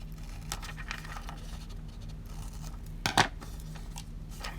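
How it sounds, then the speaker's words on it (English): Paper being cut to size for a journal cover: a few quiet snips and rustles under a low room hum, with one sharper, louder cut near the end. "I just cut that down to size"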